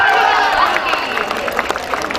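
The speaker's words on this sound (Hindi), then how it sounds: "एकदम जोरदार ताली होनी चाहिए।" Crowd at a live devotional music event at the Rajdevi temple in Janakpur breaking into dense, loud clapping that carries on steadily for a couple of seconds.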